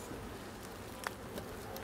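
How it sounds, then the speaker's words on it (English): Honeybees hum around a backyard hive beside a decking area, a faint steady buzz with one or two brief closer passes, no talking. "people can actually just sit here and just watch the bees do their thing."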